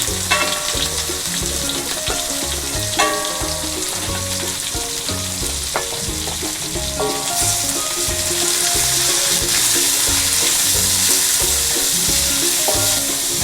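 Onions and green chilies sauté in a hot pan with a loud, constant sizzle, broken by repeated scraping strokes of a spatula in an even rhythm, and no voices.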